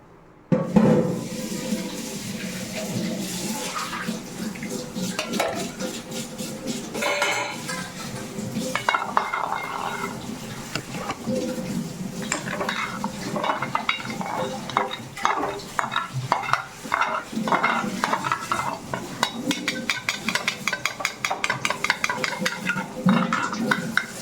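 Continuous bubbling and sizzling of milk with almond mix boiling in a pan, a spoon scraping and stirring rhythmically throughout, close and fairly loud.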